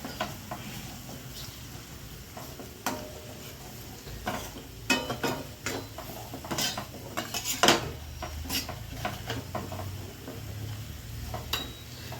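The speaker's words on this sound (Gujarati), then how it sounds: "બધું મિક્સ કરી દઈશું." Ground coriander-cumin powder and chili powder being mixed with a spoon in a pot, repeated scraping and clinking strokes of uneven rhythm over a faint sizzle, close and alone without speech.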